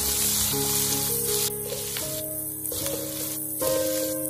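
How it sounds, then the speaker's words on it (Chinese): Chili peppers sizzle and hiss in a wok of oil left over from frying cured pork, a continuous close frying noise with tonal hums running underneath and no speech. "锅留底油，把辣椒倒下去，先翻炒均匀，炒至辣椒断生。"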